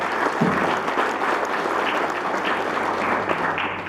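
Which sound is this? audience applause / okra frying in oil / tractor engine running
audience applause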